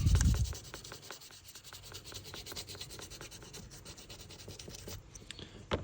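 Steady, rhythmic rasping of sandpaper rubbing a hard red stag handle on a stockman pocketknife, quick repeated strokes at close range with no voices.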